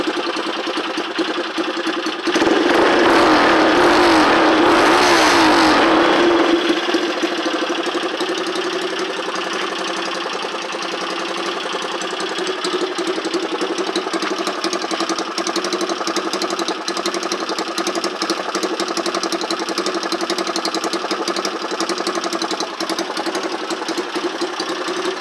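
A Honda ATC 200X three-wheeler, fitted with a webcam camshaft, idles steadily and close by with the choke off, a brief louder rev early on before it settles into an even, continuous mechanical chug with no talk.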